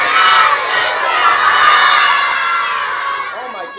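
A large crowd of children at a live community event yells loudly and together to summon a costumed character called Super Frog, a dense sustained shout that fades slightly toward the end.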